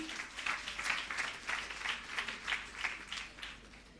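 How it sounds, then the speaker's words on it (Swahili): An audience at Kenyatta University's Disability Awareness Day claps in a fairly rhythmic pattern, slightly distant and moderate in volume, steady for several seconds. "Mpigeni makofi."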